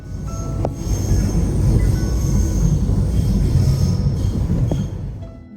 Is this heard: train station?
yes